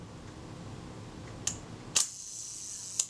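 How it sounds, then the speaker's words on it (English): A Kodak Retina Reflex type 025 camera under service fires its shutter release, giving three sharp mechanical clicks about half a second to a second apart, close and clear over a faint background hiss. "It's still releasing the film before it gets to the shutter release."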